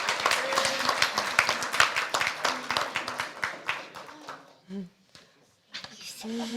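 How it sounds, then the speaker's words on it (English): Scattered audience clapping at a theological leadership center's cohort graduation, a patter of many hands that thins out and stops, followed by brief voices speaking nearby. "And we can feel free to clap."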